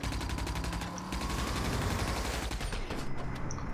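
Rapid gunfire in the video game Rage, dense bursts of automatic shots that are loud and continuous, with a few separate impacts near the end and no talking.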